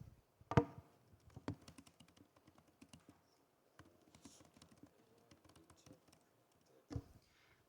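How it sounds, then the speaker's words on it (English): Quick bursts of typing on a computer keyboard, soft and close, with irregular clusters of key taps and a few sharper clacks separated by short pauses. "So let's quickly type it."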